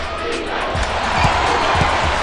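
Crowd cheering in the basketball video game PBA Basketball Slam, a steady roar of an arena audience with ball bounces thudding underneath at a regular pace.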